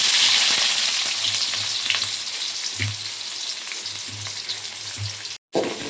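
Onion sizzles loudly in hot oil seasoned with cumin for fried rice, a bright crackling hiss close by with repeated scraping stirs, dropping out for an instant near the end before resuming.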